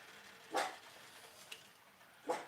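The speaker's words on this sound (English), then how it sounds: "the beagle's barking out that window" A beagle barks from beyond a window, two short distant barks about two seconds apart with a faint sound between them, heard alone and quietly in a home kitchen.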